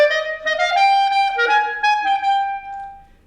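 Solo clarinet playing a Weber Concerto No. 2 excerpt in subdivided eighth notes, a short run of clear legato tones that fades out at the end, with no talk.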